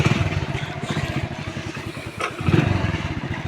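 A motorbike engine chugs nearby in uneven bursts, its irregular putter swelling briefly as it gets going.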